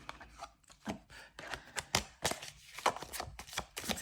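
Divination cards from an Algariel deck are shuffled and drawn, giving a run of quick papery riffles, flicks and soft slaps at close range with no voices.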